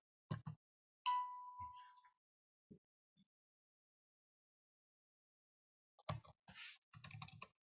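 Short bursts of computer keyboard typing sound close and quiet, with a brief ding in between and long silent gaps, then a final flurry of keystrokes.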